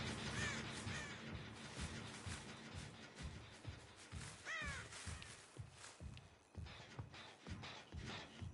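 Crow cawing in the horror video game Dead by Daylight, several harsh caws rising over a steady ambient bed with soft shuffling footsteps and movement underneath.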